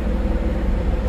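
A 2009 Caterpillar 140M AWD VHP Plus motor grader pulls away in first gear with all-wheel drive engaged, its steady diesel rumble loud and close with no pauses.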